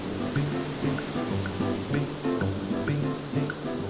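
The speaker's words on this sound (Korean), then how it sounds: "남태평양으로부터 밀려오는 높은 파도 덕분에 본다이는 젊은이들이 바람과 파도를 벗삼아 서핑을 즐기는 곳으로도 유명하다." Ocean surf rolls in at Bondi Beach, Australia, as high South Pacific waves make a steady wash with soft rhythmic swells, heard alone without voices.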